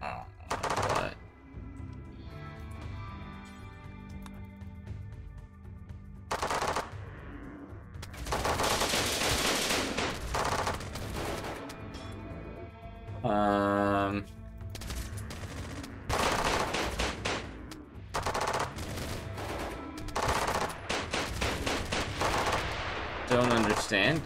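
Rapid gunfire from the colony-management video game RimWorld, loud bursts of repeated shots and machine-gun rattles breaking out again and again across the stretch, with brief quieter gaps between volleys.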